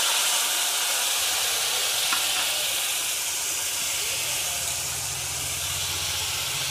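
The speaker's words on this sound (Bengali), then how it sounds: "এটা পোস্তর বাটিটা ধুয়ে জল দিচ্ছি আমি একটু" Water poured into a hot pan of small hilsa fish curry (tel jhal) after rinsing a poppy-seed paste bowl, giving a steady loud steamy hiss and sizzle throughout, with a faint low rumble beneath.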